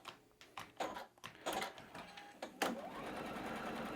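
A sewing machine stitching fabric whirs in short bursts, then runs steadily, with mechanical clicking and rattling close by.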